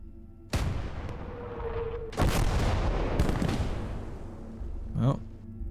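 Booming artillery fire in the Gates of Hell: Ostfront war game, several heavy blasts landing one after another with long rumbling tails, a brief whistling shell sound near the end and a faint voice underneath.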